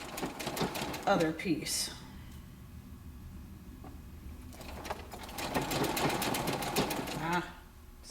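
A sewing machine stitches the hem of a ruffled apron in two rapid whirring bursts, one short at the start and a longer one later, with someone talking briefly between them.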